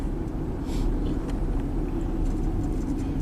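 Ford Explorer V6 idling after an engine swap: a steady, smooth low rumble throughout, close and moderately loud, with no voices.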